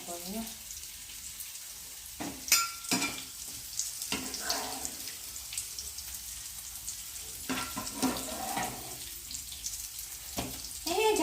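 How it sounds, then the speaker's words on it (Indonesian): Onion sambal chili paste frying in a pan over a low flame gives a steady close sizzle, punctuated by sharp clinks and scrapes of a utensil, with faint voices in the background. "Sambalnya kita goreng semuanya ya."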